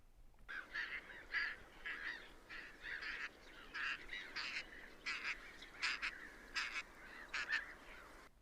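Two male ducks chasing a female on Big Bear Lake give repeated wheezy, honking quacks in uneven bursts, fairly close over a faint low hum.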